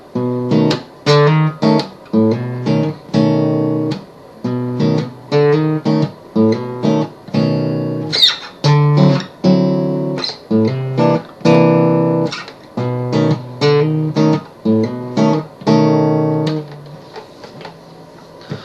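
A guitar plays the intro to a song as a steady series of short, punchy strummed chords with brief gaps, clear and close.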